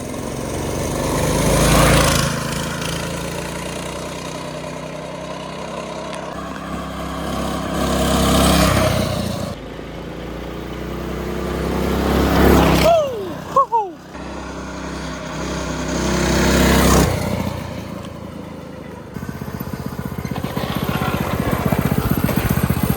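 A small jalopy go-kart engine buzzes and putters on a test drive, surging louder and fading again in repeated waves as it passes, with people talking over it at times.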